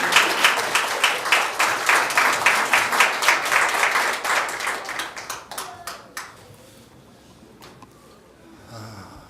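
Loud audience applause at a party candidates' joint campaign rally in Wonju, with dense clapping for about five seconds before it thins into scattered claps and fades.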